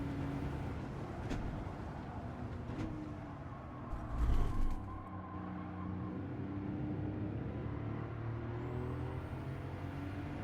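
Race car engine in Gran Turismo 7 held flat out in fourth gear, a steady sustained drone with a brief louder burst midway, continuous throughout.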